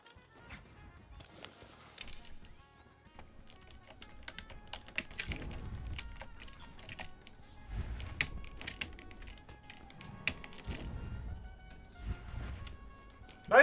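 Rapid computer keyboard typing while playing Dishonored, steady clatter of keys throughout with heavier bursts of key presses, close and moderately loud.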